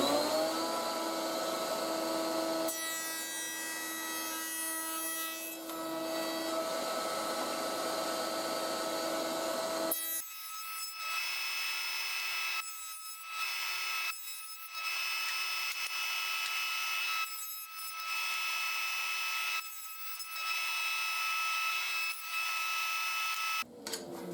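A router cuts a series of wood pieces, first a steady whining motor with a cutting rasp, then a high spinning whine punctuated by repeated brief dips as each piece passes through.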